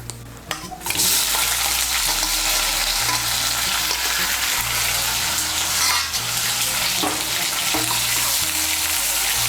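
Chopped onion hits hot oil in a pan and breaks into a loud, dense, continuous sizzle that stays strong and close throughout, with occasional faint scrapes of stirring and no voices.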